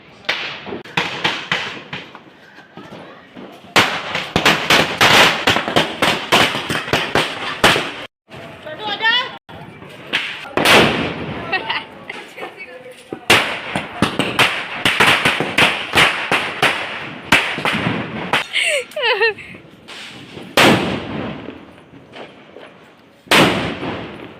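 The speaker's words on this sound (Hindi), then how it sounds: "चलाने लगे पटाखे।" Firecrackers go off during Diwali celebrations at home: long, loud strings of rapid crackling pops and sharp bangs, with brief lulls between volleys.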